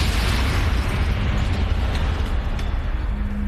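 A caravan used as a meth lab explodes in a broad, loud roaring blast that fills the whole clip with sustained rumbling debris noise and no talk.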